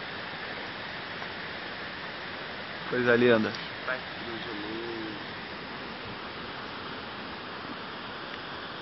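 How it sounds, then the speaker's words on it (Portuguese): Steady distant rush of the Cachoeira Condidã waterfall as a constant broadband wash, with a person speaking briefly over it. "Chegamos aqui na Cachoeira Condidã."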